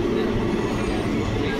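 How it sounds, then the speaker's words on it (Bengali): The Lalgola Sealdah Express running: a loud, steady rumble of a moving train heard from on board, continuous with no distinct breaks. "কিছুটা প্যারালাল রান বা প্যারালাল রেস হবে দুটো ট্রেনের মধ্যে।"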